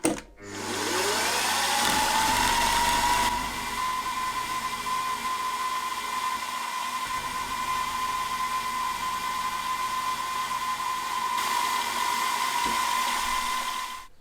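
A machine tool spins up and runs steadily while milling to join drilled holes in a model V-twin engine cylinder head, a constant whining hum with a faint cutting rumble underneath and no talk.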